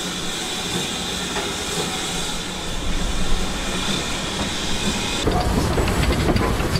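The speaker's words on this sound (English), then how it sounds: "I heard another train and swung round as a full oil train approached" A steam locomotive hauling a full oil train approaches at Edgeley shed, Stockport, in 1967, with a steady heavy rumble and hiss that grows louder and rougher in the final seconds as it draws nearer.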